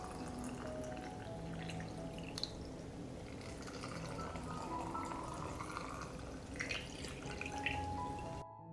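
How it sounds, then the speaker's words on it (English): Water poured into canning jars of fresh blueberries, a steady soft splashing and trickling fill with small drips, close and fairly quiet, ending abruptly. "I pour water into the jars to cover the blueberries."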